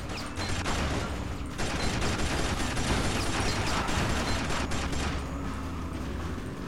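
Continuous rapid gunfire and mechanical clatter in the car combat video game Burnin' Rubber 5, dense and steady throughout with no pauses.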